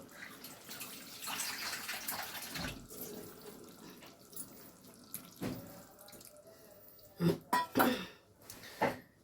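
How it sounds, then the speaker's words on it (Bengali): A little water poured into an egg curry (dimer dom) cooking on the stove, heard as a running, splashing pour followed by several louder clunks and knocks of utensils nearby; fairly quiet overall with no speech. "আমি আর অল্প একটু জল দেবো আর আঁচটা কমিয়ে দেব।"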